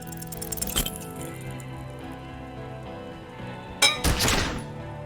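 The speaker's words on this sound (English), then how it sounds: "A small explosion expels the bullet from the chamber. With a puff of smoke, it hits the man square in the chest" In the video game Disco Elysium, a gunshot strikes an armored man with a sharp, heavy impact, preceded by an earlier thud and followed by a short crackling aftermath over a low, steady game ambience.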